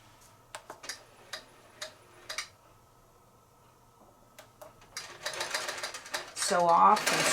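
A longarm quilting machine stitching binding onto a quilt gives sparse, evenly spaced ticks at first, then a denser, louder mechanical whir toward the end, with a voice speaking over part of it.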